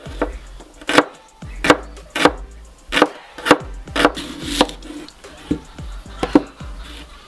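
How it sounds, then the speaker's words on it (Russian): Onions being chopped into medium cubes with a knife on a wooden board, a series of sharp knocks at an uneven pace, close and clear, with no talking. "Лук нарезаю кубик."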